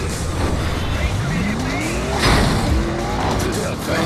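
A stolen car races in the video game Gangstar Vegas, its engine revving loudly with rising pitch sweeps, tire squeal and skidding up close, while a voice talks over the action.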